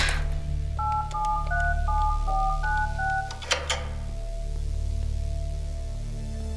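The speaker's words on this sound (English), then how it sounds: "that code sounded like a phone's touch tone" Keypad code entered at a door in a game, a run of clear beeping touch tones in a quick melodic sequence over a low ambient hum, followed by a couple of soft clicks.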